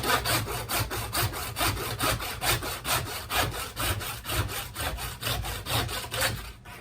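A hand saw grinds through a deer carcass bone in a long run of fast, rasping back-and-forth strokes, loud and close, with no voices.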